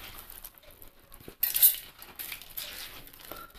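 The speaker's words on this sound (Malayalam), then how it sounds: "അതിനായിട്ടൊരു മിക്സിയുടെ ജാറിലേക്ക് മാറ്റാം." Soaked rice is moved into a mixer jar, heard as close metallic clinks and scrapes of a spoon against the jar, with a sharper clatter near the middle and quieter taps after.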